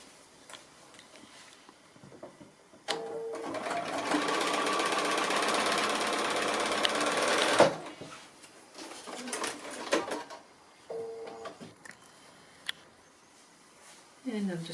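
A sewing machine stitching a foundation pieced quilt block runs in one steady, fast whirring burst of about five seconds, close and fairly loud, with quiet talking and handling sounds before and after.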